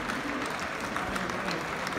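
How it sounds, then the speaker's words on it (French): Steady applause from a crowd fills the whole stretch, a dense, even patter of many hands clapping at a distance. "Alors ça a applaudi, je ne sais pas trop pourquoi."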